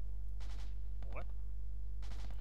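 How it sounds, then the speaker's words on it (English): Distant gunfire in a military video game set during an operation on Nogova comes in two broad, rumbling bursts, one near the start and one near the end. A short voice is heard between them. "We can hear gunfire from your pass."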